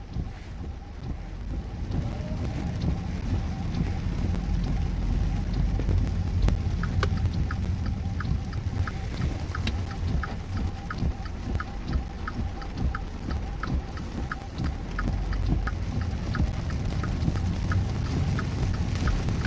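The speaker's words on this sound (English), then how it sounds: "There's a lot of rain here." Torrential rain from Tropical Depression Fred, a dense, continuous roar of heavy rainfall with wind buffeting and scattered sharp drips or impacts, loud and unbroken throughout with no voices.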